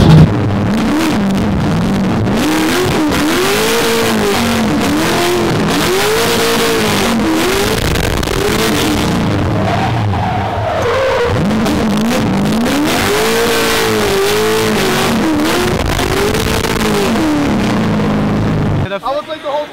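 A 900hp Toyota MKIV Supra drifts sideways with its engine screaming continuously at high revs, pitch swooping up and down in repeated waves as the car slides, loud and close throughout before cutting off at the end.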